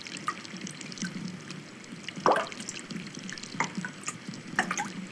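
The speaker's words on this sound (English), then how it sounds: "The soft sound of streaming water." Gentle trickling water runs steadily with scattered drips and splashes, soft and close, a quiet continuous flow.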